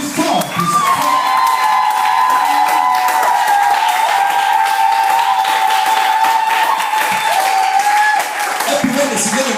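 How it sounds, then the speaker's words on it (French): A church congregation at a welcome service for a prophet applauds and cheers loudly, sustained dense clapping and shouting with a held vocal tone and talk above the crowd throughout. "Acclamons très fort."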